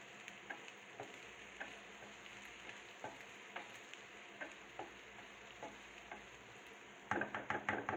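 Onion fried to light golden brown with ginger garlic paste, sizzling quietly in a pan for Tinde ki sabzi while a spoon stirs with soft intermittent scrapes and taps, a burst of quicker clinks near the end.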